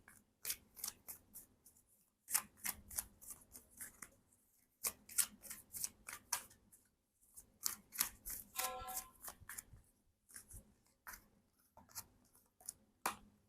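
Angel oracle cards are shuffled by hand in repeated quick riffles and slaps, a series of crisp bursts separated by short pauses, close and quiet, with no talk.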